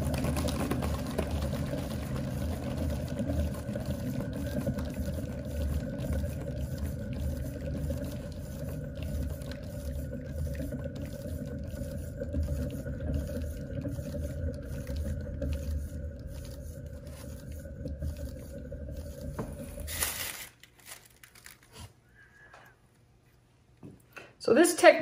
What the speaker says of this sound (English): Let's spin this and see what happens.